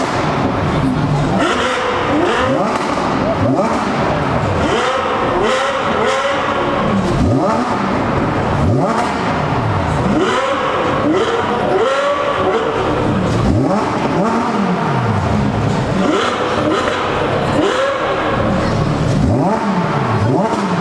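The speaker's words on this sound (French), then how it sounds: "Bonjour, vous venez de démarrer. Ça, c'est un V12 Ferrari" A Ferrari V12 engine running and revving repeatedly, with loud rising and falling roars in quick succession, heard close up amid a busy outdoor gathering of exotic supercars including a LaFerrari and F40.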